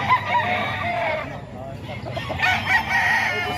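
A Thompson White rooster crows among several chickens, with a drawn-out crow followed by clucking and another crow, fairly near, with faint voices in the background.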